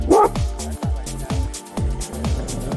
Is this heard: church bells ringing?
no